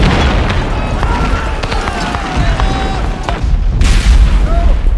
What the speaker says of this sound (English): As we see the artillery pieces firing here, there's not much of a recoil to them.